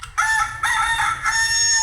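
Electronic chicken sounds from a Matchbox Action Drivers farm playset toy: a loud recorded rooster crow followed by clucking calls in a few bursts, alone with no talking.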